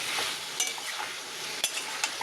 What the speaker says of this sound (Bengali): পটলটা কিন্তু ভাজা ভাজা হয়ে গেছে